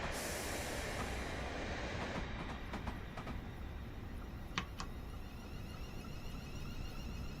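Train departing in Train Simulator Classic, a steady loud rumble of rail running noise with a few faint high squeals and clicks over it, continuous throughout.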